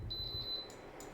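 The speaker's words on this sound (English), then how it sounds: "Sorry for the beep." A single high, thin electronic beep sounds for about half a second, followed by two fainter short tones, all quiet and isolated against low background noise.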